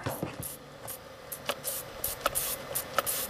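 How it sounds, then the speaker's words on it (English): Short, hissing bursts of two-stroke gasoline sprayed into a wet, dead-cranking Hyundai engine repeat irregularly, close and fairly quiet, with faint clicks and rustling between them. "I'm going to spray some gasoline in this thing."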